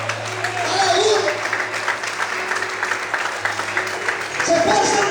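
A church congregation applauds during a pastor's sermon, a steady wash of clapping from a large crowd with a faint voice and humming tones underneath.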